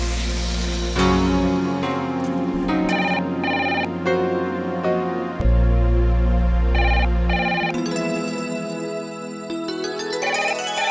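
A telephone rings with bright repeating electronic bell tones in steady bursts, loud and clear and heard alone at home.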